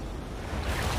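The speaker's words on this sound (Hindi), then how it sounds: "ये आई बड़ी लहर।" A big ocean wave rolls in toward an island shore, a dense, steady roar of surf that swells louder toward the end.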